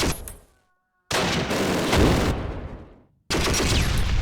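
Gunfire in the WW2 strategy game Close Combat, Panthers in the Fog: dense bursts of shots and blasts fill the clip, with a loud volley, a near-silent gap, then a long roaring barrage and another burst at the end.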